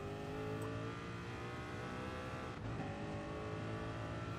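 A race car in the Gran Turismo Sport video game on the Nurburgring Nordschleife accelerates at full throttle, its engine note loud, close and steadily climbing in pitch with a brief dip partway through.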